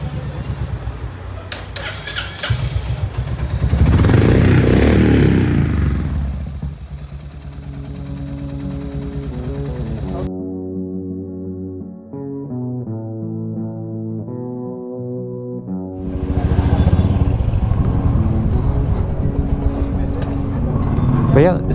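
Royal Enfield Hunter 350 single-cylinder motorcycle engine idling after tappet noise repair, a steady mechanical running tone heard close up, with stretches of talk and a background-noise section in the middle.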